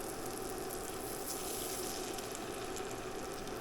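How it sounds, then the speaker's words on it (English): A steady, loud sizzle rises from a pan of garlic chicken bites frying as water is added, a continuous crackling hiss with no talking. "So I'm going to add a little water to this."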